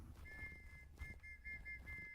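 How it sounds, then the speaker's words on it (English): A thin, high whistle in an Arma WW2 game set in Karjala sounds faintly in short repeated blasts, steady and distant over quiet background. "I hear a whistle."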